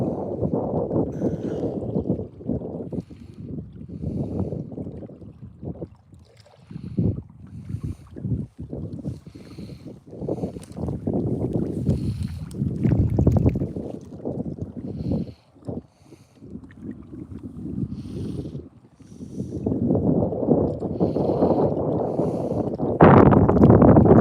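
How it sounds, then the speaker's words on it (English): Gusty wind buffets the microphone outdoors at Ochoco Reservoir on a cloudy winter day, with loud rumbling bursts that rise and fall in uneven waves, briefly dropping away between gusts. "it feels like it's starting to pick up the wind a little more"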